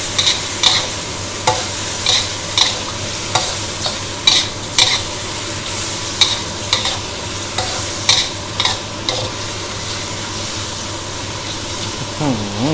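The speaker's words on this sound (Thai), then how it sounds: "จากนั้นต้อมจะใส่ปลาหมึกที่เราลวกไว้แล้วนะครับ ลงไปผัดเลยนะครับ" Blanched squid tentacles stir-fried in a pan for Thai basil squid give a steady sizzle over a low hum, broken by regular sharp scrapes and clanks of a spatula every second or so.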